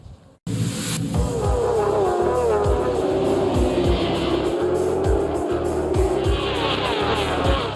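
Moto 1000 GP racing motorcycles at the Autódromo Internacional Ayrton Senna circuit in Goiânia scream past at high revs, a loud continuous engine wail with repeated gear shifts and pitch swings, no talk over it.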